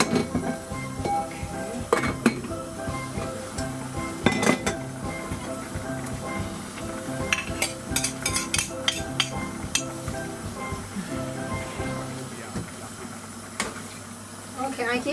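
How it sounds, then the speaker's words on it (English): Pumpkin chicken soup in a pot is stirred with clinks and scrapes of a utensil against the metal over a steady hiss of boiling, with occasional sharper knocks scattered throughout. "And make it boil and keep stirring,"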